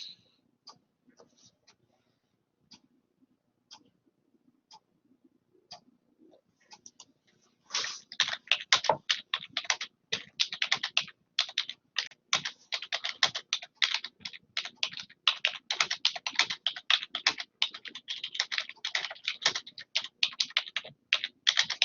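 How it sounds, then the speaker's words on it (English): Typing on a computer keyboard starts as a few sparse, faint taps, then breaks into rapid, continuous clattering keystrokes that stay close and busy through the rest of the stretch. "I'll see what Heather is typing in now"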